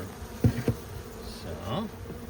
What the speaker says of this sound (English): our cluster of bees is over around here